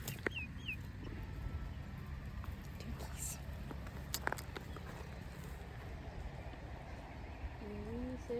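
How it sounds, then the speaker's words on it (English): Chickens cluck and a rooster calls faintly in an outdoor pen, with scattered short bird calls over a low background hum and people talking nearby. "Oh, it's a beauty chicken."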